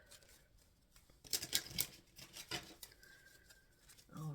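Tarot cards being shuffled, a quiet run of papery riffles and rubbing with a louder burst of flicks in the middle, close and alone without talk.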